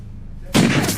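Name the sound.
gunshot in a video reenactment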